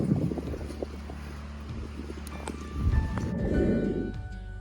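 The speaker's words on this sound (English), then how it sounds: "Man, this wind, I hope you guys can hear what I'm saying with this wind." Gusty wind buffets the microphone in a garden with pea plants beside a greenhouse, a low rumbling roar that swells louder toward the end with no clear talk.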